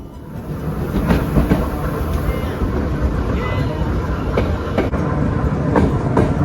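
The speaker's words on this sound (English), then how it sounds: "It's just under an hour's journey across to Soller on the train" Train running from Palma to Soller on Mallorca, a steady rolling rumble with faint rhythmic clicks of the wheels on the rails, close and continuous throughout.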